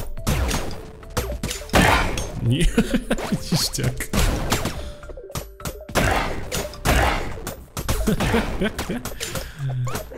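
Explosions set off by a crystal pickaxe in the video game Forager crack out in rapid, repeated bursts and thuds, layered with game effects while a person talks and laughs over them.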